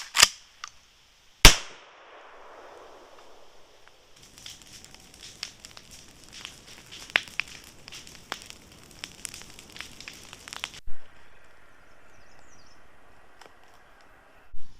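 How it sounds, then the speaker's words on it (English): Fireworks pop in the distance around a rural off-grid cabin site, with a few sharp isolated bangs at the start and end and a stretch of faint crackling in between. "There's nobody all around since all the fireworks are going off."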